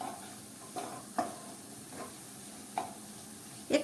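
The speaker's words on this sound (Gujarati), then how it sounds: "આપણે ચણાના લોટને સારી રીતે બધી વસ્તુ સાથે મિક્સ કરી લઈએ" Stirring raw chickpea flour into a spinach and green pea curry in a pan, a soft scraping stir with faint sizzling beneath and a few louder spoon knocks against the pot, close by.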